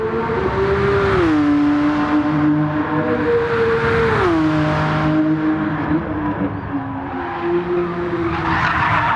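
A Lamborghini Countach QV engine in a racing video game wails at full throttle up a hill, its pitch climbing and dropping sharply at each gear change, loud and continuous with tire squeal mixed in.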